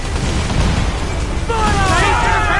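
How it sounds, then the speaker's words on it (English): A ship's enemy cannon fire explodes in Assassin's Creed Black Flag. A heavy, rumbling boom fills the opening, then sharp bursts and crackling debris follow. Shouting voices are mixed under the blasts. "They are firing, sir! Enemy fire! Taking a hit, Cap!"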